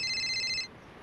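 Phone ringtone ringing, a short bright electronic tone sounding clearly for a moment before cutting off, faint and alone in a quiet room.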